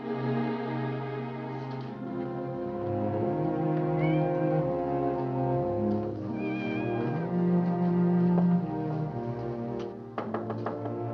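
A cat meows in long, drawn-out, wavering cries, loud and close, with a few clicks near the end, set in an old 1952 film scene.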